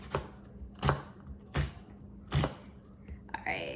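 An onion is diced into cubes on a cutting board with a knife, giving four distinct, evenly spaced chopping thuds followed by a softer scraping shuffle.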